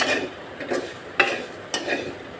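Moringa leaves are stirred and dry-fried in a pan. Soft scraping strokes repeat in an uneven rhythm, close and fairly quiet, with a faint sizzle behind them.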